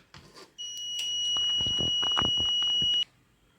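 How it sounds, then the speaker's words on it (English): A steady electronic buzzer alarm tone from an Arduino fire detection system, triggered past a 45 degree temperature limit, sounds continuously for about two and a half seconds, loud and close, with faint background noise and clicks. "you can hear the buzzer"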